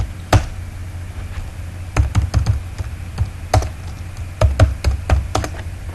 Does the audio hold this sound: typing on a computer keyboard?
yes